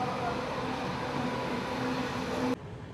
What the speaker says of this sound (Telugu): సో మన ట్రైన్ తెనాలి నుంచి అయితే బయలుదేరిపోయింది.